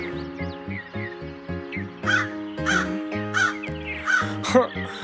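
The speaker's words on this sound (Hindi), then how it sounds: "कौवा खाने की तलाश में इधर उधर उड़ रहा था" A crow caws repeatedly, loud and close, over a melodic music backing with steady rhythmic notes.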